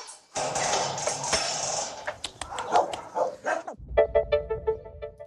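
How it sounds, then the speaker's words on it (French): An American Bully, a heavy molosser-type dog, barks in a dense run of loud, close barks, then sharper yips and whimpering sounds follow after a brief drop. "C'est un American Bully, du type molosse."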